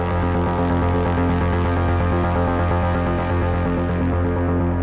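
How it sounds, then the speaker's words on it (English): A simple repetitive synth sequence loops evenly, with a steady pulsing pattern of notes at a constant level and no voice. "I just have a simple repetitive sequence going."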